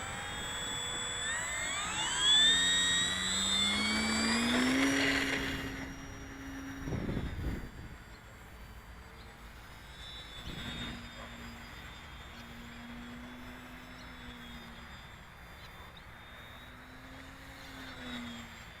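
A Durafly Bravado 1000mm 3D/sport RC model plane flies around overhead, its electric motor whining and shifting pitch as it swoops, loud early then fading to a distant, wavering drone with a few gusty bumps.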